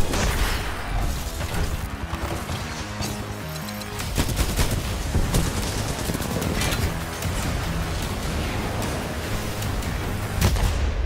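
Dense, continuous gunfire in Titanfall 2, with machine-gun bursts and heavy booms piling into a loud, unbroken battle din throughout.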